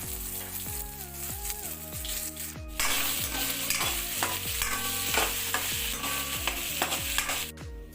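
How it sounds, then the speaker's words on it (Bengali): Carrot and beetroot fry in hot white oil for a vegetable chop, with a steady sizzle under regular scraping strokes of a spatula stirring the pan throughout. "তেলটা সামান্য গরম হয়ে গেলে গাজরটা ও বিটটা একটু ভেজে নেব। ভালো করেই ভাজতে হবে।"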